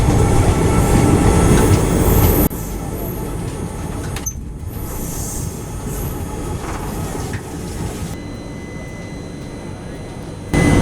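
A long-distance Indian passenger train slows and halts at a small station: a loud rumbling carriage interior drops abruptly, then a steadier hum with faint squeals and brief clanks follows, with voices murmuring faintly in the background.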